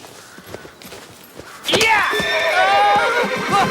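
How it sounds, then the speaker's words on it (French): A horse gives a loud, shrill whinny that rises and trails off over a couple of seconds, after a few soft hoof and rustling sounds, close by. "Le cheval bougera uniquement si vous lui en donnez l'ordre, prince."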